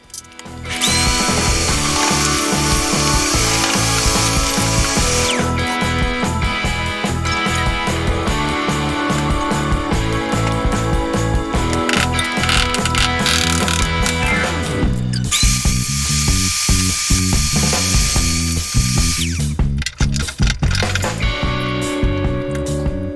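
Loud, continuous power-tool whirring and ratcheting while the fuel pump ring is taken off a Mustang, with bursts of higher-pitched spinning and steady mechanical rattle throughout.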